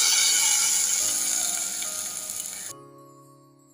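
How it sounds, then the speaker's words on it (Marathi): Ground masala paste for a silver fish curry sizzles loudly in hot oil, a bright crackling hiss with faint stirring that fades steadily and cuts off near the end. "आता यामध्ये साराचा वाटलेला मसाला टाकू।"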